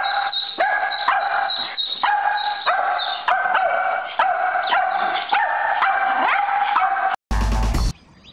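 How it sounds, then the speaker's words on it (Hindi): A dog backing away from a duckling gives a rapid run of high, whining yips and whimpers, close and loud, followed by a short burst of noise at the end. "आखिर ये कैसा कुत्ता है जो एक बत्तख के बच्चे को देखकर बिदक रहा है"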